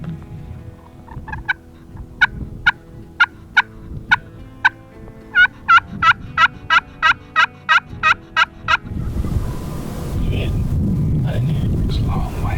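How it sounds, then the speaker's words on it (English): A wild Rio Grande turkey gobbles outdoors during a hunt. A long run of sharp, evenly spaced, clear calling notes is followed by wind and a low rumble. "he gobbles back down in that kind of where he came from that first day"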